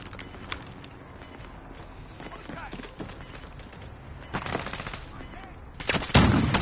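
Bursts of gunfire in a military shooter video game, short volleys and a louder close burst near the end over a busy background of game effects and callouts.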